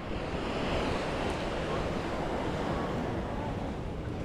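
Ocean surf rolling onto the beach at Playa del Carmen, a steady, full wash of breaking waves with some wind rumble, continuous and fairly loud throughout.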